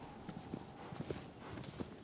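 Horse hooves clip-clopping in a PS4 video game, a series of soft, irregular hoof strikes at a walking or trotting pace, fairly quiet against a low background hum.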